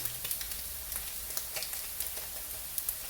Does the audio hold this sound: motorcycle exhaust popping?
no